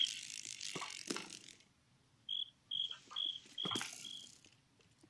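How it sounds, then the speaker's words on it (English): Cricket in Minecraft, a short series of four or five quiet, evenly spaced chirps in near-silence, set among louder scraping and clattering game noises. "Cricket."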